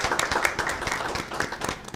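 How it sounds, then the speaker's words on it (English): Applause at a school board meeting, several people clapping at once in a brisk, uneven patter that holds steady at moderate loudness and close range, with no speech over it. "So if you all would just give them a round of applause,"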